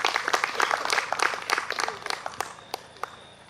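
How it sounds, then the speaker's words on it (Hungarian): A crowd claps for the opening of an event in Hungary: dense, lively applause that thins out into a few scattered, separate claps and then fades away, with no talking over it. "Úgyhogy tapsoljuk meg Karcsi bácsit, hogy megtartotta a megnyitót már szombaton"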